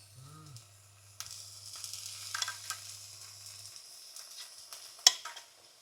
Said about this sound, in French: On va retirer les tiges. Et on va les ajouter directement à la poêlée.